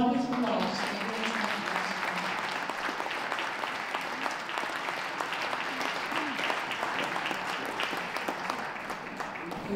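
An audience claps steadily at a national dog show in Birmingham, sustained applause for a lineup of gundogs, moderately loud and even throughout, with some voices mixed in.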